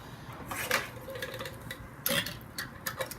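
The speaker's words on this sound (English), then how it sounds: "Place our lid and ring on the jar" A metal lid and screw ring are set onto a glass canning jar of garbanzo beans, giving a few light clinks and scrapes spread over a few seconds, close up and fairly quiet.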